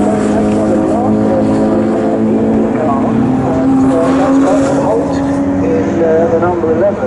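An Alfa Romeo saloon race car, the number 64 touring car, roars past at Donington with a loud steady engine note rising in pitch, under continuous commentary.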